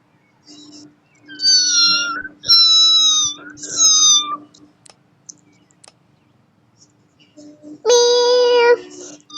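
Cartoon cat meowing in the Avatar World game: a cluster of three loud, close meows, a pause with faint clicks, then one more drawn-out meow near the end.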